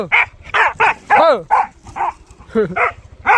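A farm dog barks repeatedly in a steady series of sharp, close yaps and short whining barks, about eight in a row, with no one talking.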